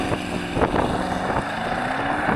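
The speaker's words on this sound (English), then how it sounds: "Then I'm just going to brake boost it and time it with my specialist timing gear." A Porsche in sport mode launches hard from a brake boost, a loud, steady roar of engine and rushing wind that holds for a couple of seconds with no break.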